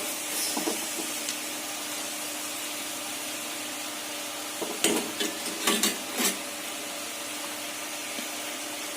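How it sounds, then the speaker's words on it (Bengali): Chicken French fries frying in hot oil, a steady broadband sizzle throughout with a few sharper clatters and crackles near the middle as pieces are added one by one. "অবশিষ্টগুলো ভেজে নিব"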